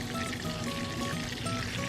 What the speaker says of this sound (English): Frying up pretty good right now.